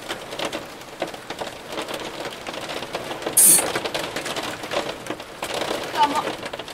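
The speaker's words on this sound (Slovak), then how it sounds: "počuješ ty krúpy tam, jak padajú na to?" Hail falling and pattering onto a surface outdoors during a tornado storm, a dense, continuous rattle of small impacts heard at moderate distance, with one sharp louder burst partway through and no speech.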